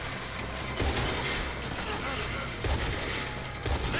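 Gunfire in Red Dead Redemption during a gang shootout: a steady wash of distant-sounding shots with a few sharper cracks and thuds, fairly faint, with someone talking at times beneath it.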